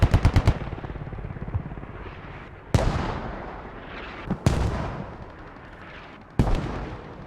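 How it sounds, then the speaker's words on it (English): Mortar fire in the Squad video game: a quick burst of rapid thuds, then three heavy, sharp impacts spaced a couple of seconds apart, each with a long rumbling tail fading into the background. "there's mortars from uppers as well"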